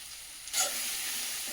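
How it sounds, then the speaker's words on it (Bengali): Cumin and Kashmiri chilli powder frying in oil, a quiet hiss that swells suddenly into a steady close sizzle and stays level, with no voices. "ভালো করে কষিয়ে নেব মশলাটা ভালোভাবে ভেজে নিয়েছি তেলটাও ছেড়ে দিয়েছে"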